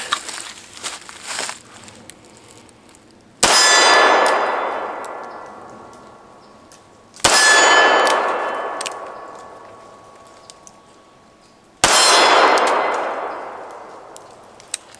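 Three loud Browning BDM pistol shots ring off steel targets several seconds apart, each a sharp crack followed by a long metallic clang that slowly fades, close and alone.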